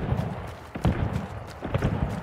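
Horse hooves clopping in a video game bounty hunt near an ironworks, a steady run of soft, mid-distance clip-clop beats over a low ambient backdrop.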